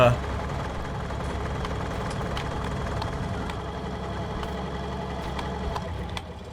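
Farm vehicle engines in the video game Farming Simulator 19 run at a steady idle, giving a continuous low mechanical drone that holds at an even level from start to finish.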